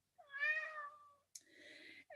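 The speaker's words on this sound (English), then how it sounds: "Apparently, my kitty Zane really wants to be with us today" A house cat meows clearly and nearby, one long drawn-out call followed by a shorter, rougher meow, alone with no talking.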